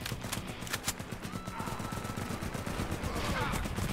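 Gunfire in Warface, played on Nintendo Switch: rapid automatic shots rattle fairly quietly and at a distance, forming a continuous stream of quick cracks for several seconds.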